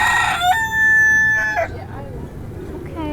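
A rooster on the beach at CocoCay crows loudly and close by, one long strained cock-a-doodle-doo that rises and then breaks off. Faint crowd and surf noise follow it.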